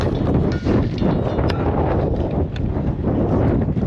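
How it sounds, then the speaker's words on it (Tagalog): Strong wind at Thompson Beach in South Australia buffets the microphone with a loud, continuous low roar and rumble, steady and unbroken across the whole stretch. "Medyo mahangin lang talaga, malakas ang hangin."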